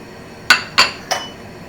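A spoon clinks three times against cookware while cooking fried fish, sharp metallic taps spaced about a third of a second apart, clear and close in a quiet kitchen.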